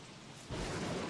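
A lightning strike in the video game Don't Starve sets off thunder that swells suddenly into a loud, low, rumbling roar over steady rain, brief and with no voices.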